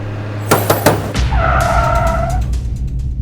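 A car brakes hard and skids to a halt, a loud tire squeal sweeping through the middle of the stretch over low engine rumble, with a few sharp knocks before it.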